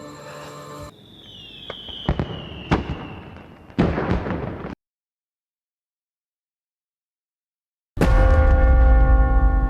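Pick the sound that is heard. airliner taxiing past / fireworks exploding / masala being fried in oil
fireworks exploding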